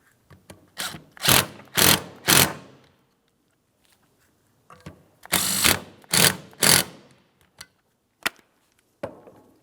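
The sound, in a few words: tightening 15mm mounting nuts on a bracket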